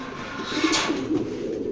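Racing pigeons in a loft give a soft, low cooing that rises and falls over a faint steady background hiss, close by and alone.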